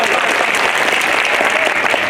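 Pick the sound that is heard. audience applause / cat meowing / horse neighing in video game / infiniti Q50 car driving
audience applause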